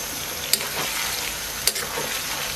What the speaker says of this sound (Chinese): 用现在的高油温，咱们把洋葱给它简单的炸一下